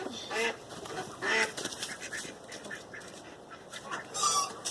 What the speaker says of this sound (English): Quiet, ducks!